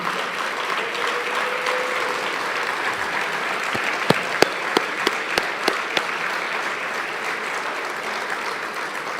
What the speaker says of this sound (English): if the coaches' wives would please stand up, and so we could give you a round of applause